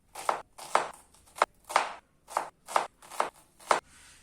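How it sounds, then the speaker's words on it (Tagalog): A knife chops an onion into small pieces on a board in a crisp, evenly spaced run of about eight close, clear strokes, with no talking. "Next, nahihiwain ay sibuyas."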